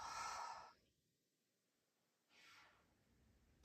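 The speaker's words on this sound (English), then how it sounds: "And a strong exhale." Strong exhales during yoga breathing practice, a forceful breathy rush of air at the start followed by a quieter second breath after a pause, close and soft.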